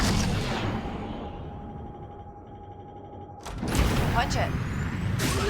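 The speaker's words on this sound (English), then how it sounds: "Spooling up the hyperdrive." A starship hyperdrive in the Star Wars Outlaws video game hums and whines as it spools up, a steady low drone with a thin tone that builds into a louder rushing surge near the end.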